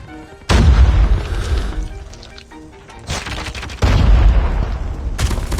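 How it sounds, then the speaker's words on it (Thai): Grenade blasts in the mobile shooter Call of Duty Mobile: several loud, heavy booms burst in sequence with rattling gunfire between them, each explosion rising sharply and then decaying into rumble. "เฮ้ยระเบิด"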